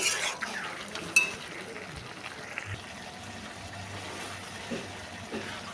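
Desi chicken curry is stirred in a cooking pot, with light scraping and occasional soft clinks of a utensil against the metal, quiet and close, with a gentle background hiss.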